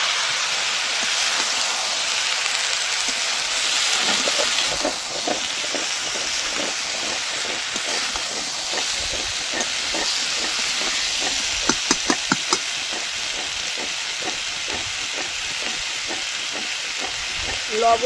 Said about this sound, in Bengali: এবার আলু আর সজনে দিয়ে দেবো।